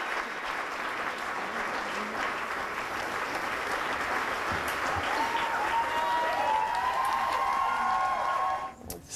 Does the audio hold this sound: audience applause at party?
yes